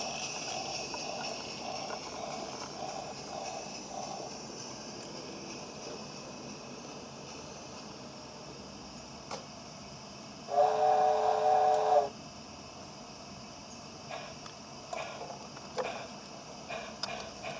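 A model light railway goods train heard from onboard, with a low steady rumble of running, a brief loud whistle-like blast midway, and light clicks toward the end.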